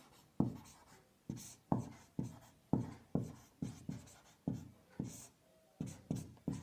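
A pen writes on paper while working a class 10 maths problem, about a dozen distinct scratchy strokes in an irregular rhythm, close but soft, with no talking.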